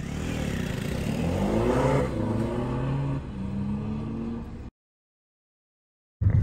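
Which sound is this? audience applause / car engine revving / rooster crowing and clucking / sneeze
car engine revving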